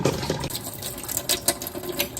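Cool tap water runs into a kitchen sink beside a pot of boiled eggs, a steady splashing hiss with uneven gurgling bursts, close and alone.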